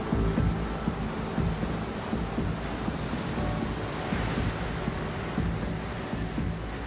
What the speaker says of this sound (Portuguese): As ondas estão mais altas porque um furacão se aproxima da ilha.